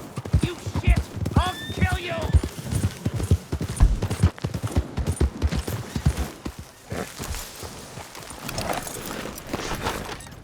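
Rapid clip-clop of horse hooves trotting close by in the video game Red Dead Redemption 2, with a brief whinny and people talking over the hoofbeats.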